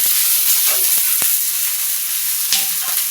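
Coriander seeds and whole spices dry-roast in a pan for a chicken sukka masala, a steady close hiss and crackle broken by a few sharp clicks and scrapes as they are stirred.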